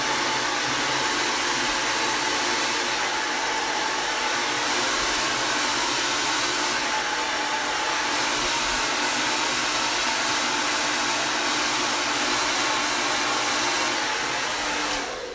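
A hair dryer with a hot metal nozzle blows in a continuous, loud whoosh while blow-drying hair at the roots with a round brush, nearby and without talk.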